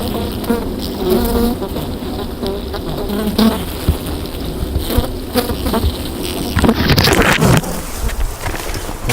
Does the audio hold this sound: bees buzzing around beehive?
yes